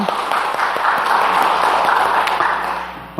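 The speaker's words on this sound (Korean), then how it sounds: "영광의 박수를 주님께 돌리십시다." A church congregation applauding during a Sunday service, a broad, steady clapping of many hands that stays even and moderately loud, with a low hum underneath and a few sharper claps scattered through.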